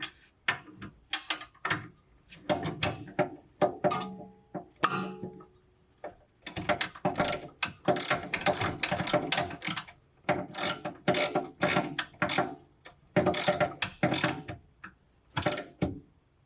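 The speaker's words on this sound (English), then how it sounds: "I'm going to start the torque with this little ratchet here, and then I'll end it with the big guy" Small ratchet tightening bolts on the trailing arms of a 1992 Honda Civic hatchback, producing bursts of rapid clicking with short pauses between, close and crisp with no talk.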